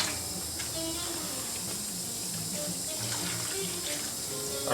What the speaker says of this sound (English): I'm gonna pour my broth that I set aside from cooking the stuffing.